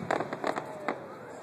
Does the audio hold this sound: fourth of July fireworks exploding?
yes